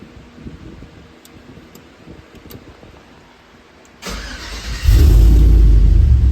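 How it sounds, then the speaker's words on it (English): A 2003-2007 Chevrolet Silverado pickup engine cranks and catches, then roars to life and settles into a loud, steady rumble close by. "obviously you can hear the truck on"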